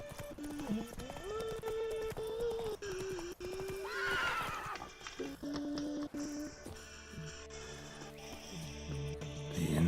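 Roach the horse in The Witcher 3 whinnies loudly and trots with clip-clop hooves, close up, layered over game music and ambient effects.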